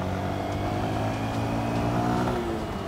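A 2019 Honda Bros 160 motorcycle accelerates on an off-road trail, its engine revving up in a steady rising drone, loud and close, with no talking.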